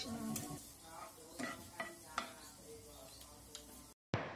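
Two dried red chillies sizzle in two tablespoons of oil in a frying pan for a spinach and beef dish, with a soft crackle under close stirring scrapes and clicks before an abrupt cut.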